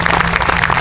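Audience applause for piccolo soloists after a band performance of Stars and Stripes, a dense steady wash of clapping that fills the whole moment with no voices over it.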